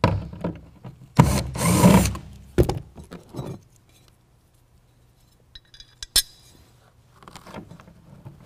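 A power tool tightens fasteners for a BedRug Impact bed liner in a 2021 Ford F-150 bed: one loud, close burst of about a second and a half, followed by quieter metallic clinks and handling sounds.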